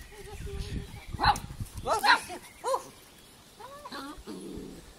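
A dog barks on command in a few short, sharp yaps and whimpers between a woman's repeated urging, fairly close but not loud.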